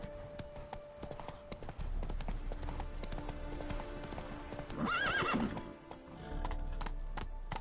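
The horse Roach in The Witcher 3 video game gallops with rhythmic clip-clop hoofbeats and lets out one clear, mid-loud neigh partway through, over a game soundscape.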